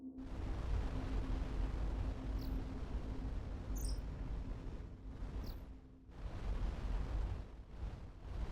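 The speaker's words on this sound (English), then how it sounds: "A massive reactor explosion." A massive reactor explosion in the space game Starcom: Unknown Space roars as a dense, sustained low rumble with faint high chirps above it, briefly dipping before the roar swells again.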